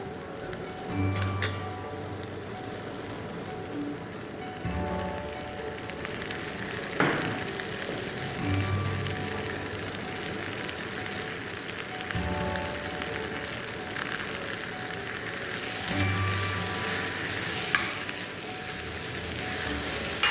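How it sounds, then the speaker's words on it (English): Spinach leaves and onions sautéing in a pan for cream of spinach soup give a steady, close crackling sizzle like light rain, with occasional stirring knocks and low hums drifting in and out. "We'll saute the spinach leaves a little bit."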